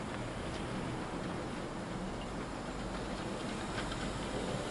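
A Hornby LNER Class J15 model locomotive pulls a long goods train around a layout, a faint, steady rolling rumble with soft track clatter and no voice.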